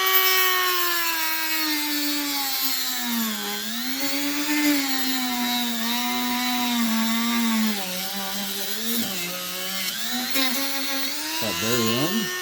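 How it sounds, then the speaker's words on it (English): A small rotary cutting wheel grinds through a plastic headlamp filler from a 1975–1976 Cadillac, a loud, close, high whining buzz whose pitch dips and rises as the blade bites and eases, steady for the whole stretch. "we've got our wheel, and we're going to just cut right through."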